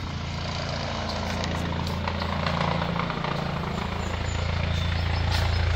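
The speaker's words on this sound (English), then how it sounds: "here comes the life flight helicopter" A steady mechanical whir and thumping rotor drone of a medical life flight helicopter flying overhead holds constant and fairly loud, with no talking.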